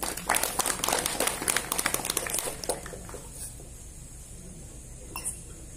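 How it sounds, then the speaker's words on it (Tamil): Audience applause at a Tamil spiritual satsang gathering in Vadalur: a dense burst of clapping for about three seconds that quickly thins and dies away into quiet. "ஐயாவுக்கு ஒரு கைத்தட்டல் கொடுங்க."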